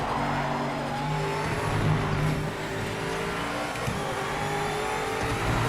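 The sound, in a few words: GTE race car engine in Project Motor Racing video game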